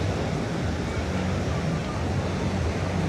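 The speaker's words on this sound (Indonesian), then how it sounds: "Ombaknya juga nggak terlalu besar." Ocean surf at Seminyak beach in Bali on an afternoon with fairly small waves, a steady broadband wash of breaking water and wind that fills the whole stretch without pause.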